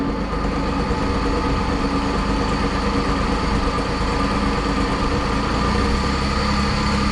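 A John Deere 322 lawn tractor engine runs steadily just after firing up, a constant loud, close mechanical drone with no break or change in pace.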